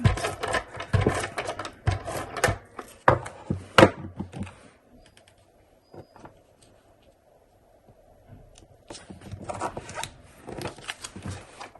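A handheld tape runner lays adhesive tape onto a planner page in quick, close zipping strokes, a burst of strokes, a quiet pause, then more strokes.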